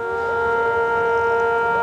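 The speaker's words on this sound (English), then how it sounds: "And there go the sirens again as we leave here for a moment." Air raid sirens sounding during a Scud missile attack, a sustained loud wailing tone with rich stacked harmonics holding steady throughout, no voices over it.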